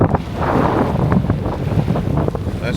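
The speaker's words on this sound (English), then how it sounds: "here's the beach" Steady gusting wind buffets the microphone on a beach in Martinique, with a broad rushing roar that may carry surf beneath it, loud and continuous throughout with no talking.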